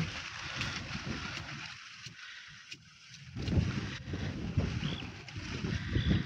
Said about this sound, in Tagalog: mahangin naman